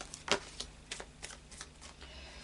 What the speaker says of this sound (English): So I'll just do a final shuffle of the Tarot of Dreams.